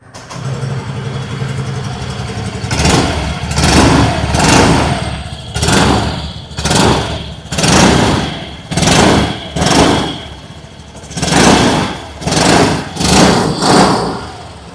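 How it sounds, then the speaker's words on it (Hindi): A 2026 Yamaha Ray ZR 125 Hybrid scooter's exhaust note: brief idle, then a series of repeated throttle revs rising and falling in loud, rhythmic bursts, close to the microphone. "आइए अभी सुन लेते हैं इस स्कूटर की एग्जॉस्ट नोट।"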